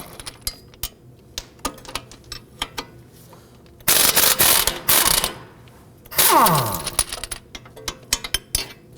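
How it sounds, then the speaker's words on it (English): A wrench loosens the 19mm strut-to-knuckle nuts on a 2005-2009 Subaru Legacy 2.5L H4, heard as sharp, close ratcheting clicks, then two loud harsh mechanical bursts. "Now I want to go ahead and loosen and remove the nuts here and here for our strut to knuckle."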